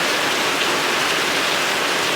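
Steady, dense rain pours down in a continuous hiss, loud and unbroken throughout, with no voices.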